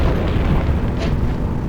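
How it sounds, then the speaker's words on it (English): Bombs go off in Sly 3: Honor Among Thieves, a loud, close, rumbling explosive boom with a dense low roar that carries through the whole moment. "Oh god, bombs!"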